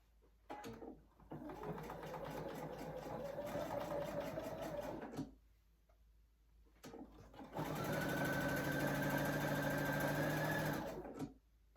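Sewing machine stitches a quarter-inch seam across the corners of a zippered project bag, two steady whirring bursts of rapid stitching separated by a quiet pause, close and clear with no talking.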